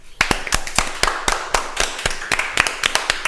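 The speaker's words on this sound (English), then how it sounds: "I think they deserve a round of applause." A small group claps for podcast fans, sharp hand claps spaced unevenly in a short, close burst with no speaking.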